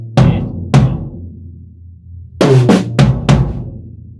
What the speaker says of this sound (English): pa of the paradiddle is on tom 1 and the diddle is on floor tom.